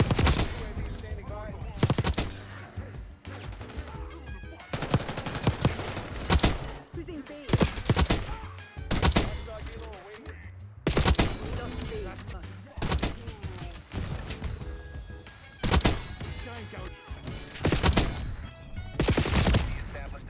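SMG gunfire in the video game Black Ops 6, loud bursts of rapid automatic shots repeating every second or two over game sound effects, with a voice talking over them.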